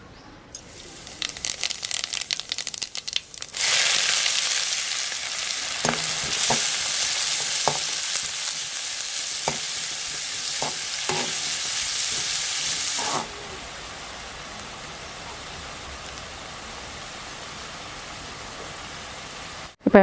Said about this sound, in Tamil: இப்போ வெங்காயம் நல்லா வதங்கிட்டுருக்கு.